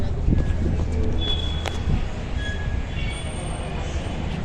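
A train departing a station rumbles and clatters along the rails, with brief metallic wheel squeals rising over the steady, loud rolling noise.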